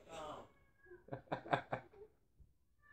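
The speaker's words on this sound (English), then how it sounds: "Here's my dumb cat again." A house cat meows several times in a short run of rising and falling cries, close to the microphone, after a brief stretch of background noise.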